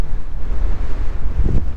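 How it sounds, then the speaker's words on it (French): Strong wind buffets the microphone during lure fishing, a steady, low roaring rumble gusting throughout with a brief louder push near the end. "tellement qu'il y a du vent, c'est génial."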